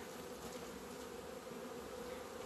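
Agitated honeybees from a queenless colony buzz in a dense, continuous drone, many insects close by humming steadily without pause, and no one speaks.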